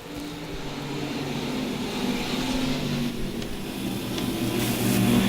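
Modified stock cars race on a dirt track at a USRA A and B Mods and Stocks nationals event at Lakeside, their engines forming a steady, dense roar that swells slightly louder toward the end, with no talk.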